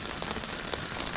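Steady rain patters on a surface during a thunderstorm, a dense, even hiss of drops with small taps scattered through it. There is no talk.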